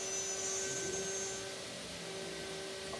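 A Shaper handheld CNC router with a 4mm bit cutting steadily, a loud continuous whine with a high tonal hiss that holds evenly without pause.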